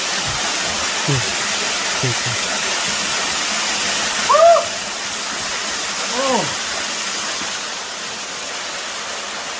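Steady broadband rush of Sunrak Falls at Daedunsan, South Korea fills the whole clip, loud and constant, with a few brief spoken words over it.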